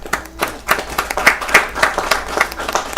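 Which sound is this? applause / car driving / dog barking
applause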